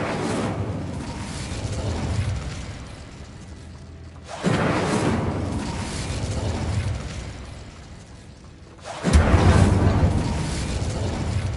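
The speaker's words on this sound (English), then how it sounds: "Incendio." Three fiery spell bursts in Hogwarts Legacy, each a sudden loud whooshing boom that rolls into a long crackling roar, spaced about four seconds apart and growing stronger with the last.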